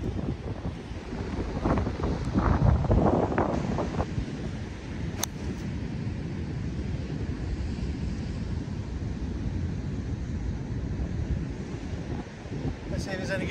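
Strong, gusty wind sweeps across a golf course at a par 3 hole, a constant roar and buffeting at the microphone that runs the whole way through. It swells loudest early on, and a voice may be faintly mixed into it.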